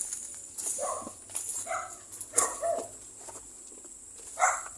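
A dog barks several times at a distance near a cemetery, in irregular short bursts over a quiet outdoor background.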